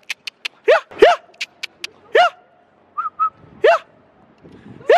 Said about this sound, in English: There's a fucking dog with a tennis ball.